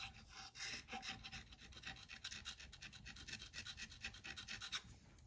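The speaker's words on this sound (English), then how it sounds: "Trying to get this surface free of gasket material." A three-sided bearing scraper scrapes old gasket material off a metal surface on a Mity Kat bulldozer, making quick repeated rasping strokes close up and alone.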